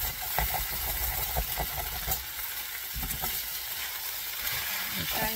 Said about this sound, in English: I'm trying to mix the onion up evenly with the potato.